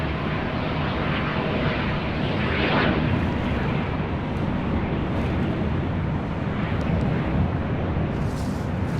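Heavy Airbus airliner on short final to runway 24 Left at LAX, a steady, loud broadband engine roar that holds constant throughout with no pauses or talk.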